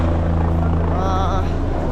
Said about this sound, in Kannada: ಹೆಲಿಕಾಪ್ಟರ್ ಹೋಗ್ತಾ ಇದೆ